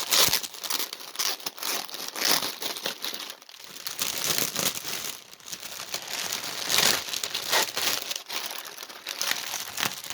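A cross stitch kit package is unpacked close up, with continuous crinkly plastic rustling, crackling and tearing as sticky tape comes off, in irregular bursts for about ten seconds.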